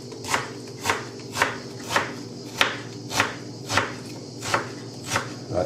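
Knife chopping through an onion on a cutting board while making a warm goat's cheese salad, about ten evenly spaced crisp cuts at a steady rhythm, close and clear with no talking.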